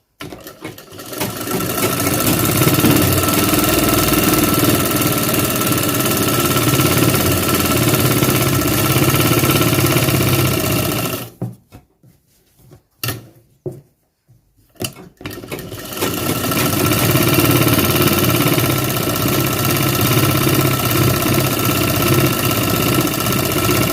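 A tailor's sewing machine stitches the seat seam of trousers, running in a steady loud whir for several seconds, stopping briefly with a few stuttering starts, then running steadily again.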